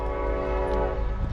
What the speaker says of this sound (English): there's a train coming through